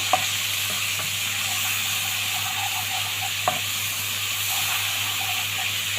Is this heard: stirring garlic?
yes